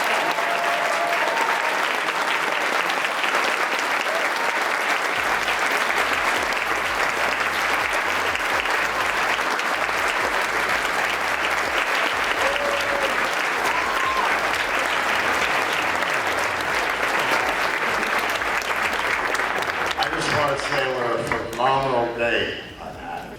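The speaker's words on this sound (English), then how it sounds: "Let's have a big round of applause for Chris." Loud, sustained applause from a large audience at a DeLorean car show banquet dinner fills the space, steady clapping that tapers off near the end as a voice begins.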